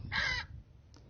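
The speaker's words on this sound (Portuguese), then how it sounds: "Papagaio 1," Parrot sound effect played from a phone sound-effects app: a short, loud, harsh squawk lasting under half a second, then a faint brief chirp, alone with no talking.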